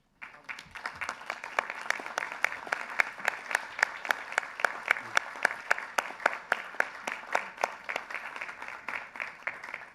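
Sustained applause from a large audience at a congress general assembly, dense steady clapping that carries on for the whole stretch at an even level.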